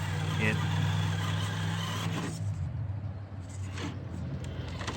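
A 16-turn 5-slot brushed motor in an RC crawler runs in slow, gradual reverse, giving a low mechanical drone that fades partway through under someone talking.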